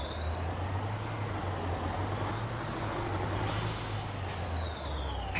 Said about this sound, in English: we've got a New Holland 8340 here with an Eastern European truck engine in it